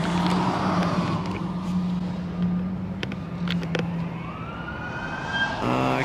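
A police car siren wails along a highway at the scene of a single-car crash, its rising and falling tone steady over road and engine noise, with a sharp closer burst at the end.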